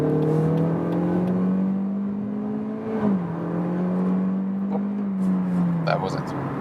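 Lexus UX pulling hard from 60 to 100 km/h in sport mode, a steady engine drone rising in pitch for about six seconds with a brief dip near the middle, heard from inside the cabin.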